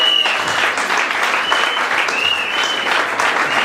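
A church congregation claps together during a Sunday worship service, dense sustained applause filling the room at close range, with faint voices and a high tone running underneath.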